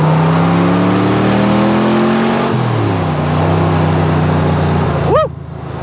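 A 1967 Chevrolet Corvette L71 435hp engine pulls loud and close under throttle, its note climbing through a gear, dipping at a shift, then rising again before a quick final surge and cut.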